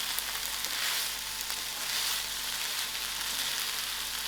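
Chicken and mushroom spring roll filling sizzles steadily in a hot pan as a stir fry, a loud, even frying hiss with faint stirring scrapes and no talking.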